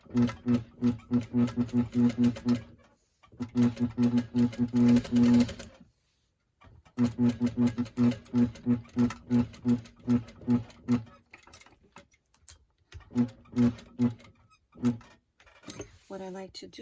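Sewing machine stitching a pocket onto a blouse, rapid rhythmic mechanical clatter in bursts of a few seconds, separated by brief pauses for repositioning, close and fairly loud.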